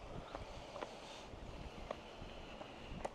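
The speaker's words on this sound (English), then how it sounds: "Nice and windy too. Cool breeze." Steady low wind noise rumbles against the microphone throughout, with a few faint light taps and rustles on top.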